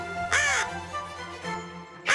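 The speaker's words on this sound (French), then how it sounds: "Les corbeaux sont omnivores." Crows cawing loudly and close by, two harsh calls in quick succession, a fainter one after a pause, then another starting at the very end.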